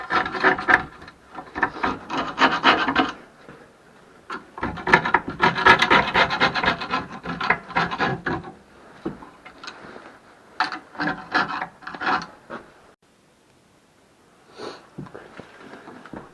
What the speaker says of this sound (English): after I finished scraping that out with the screwdriver